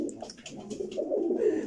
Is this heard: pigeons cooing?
yes